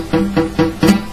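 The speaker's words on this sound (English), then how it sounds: "If I don't have enough pressure on my 3rd finger, the string is going to sound like this." Four quick plucked guitar notes sound muted and buzzy, each dying away fast with a dull, choked tone, the string fretted by the third finger without enough pressure.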